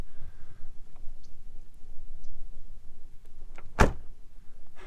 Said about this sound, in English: And shutting the door automatically lifts it quite a ways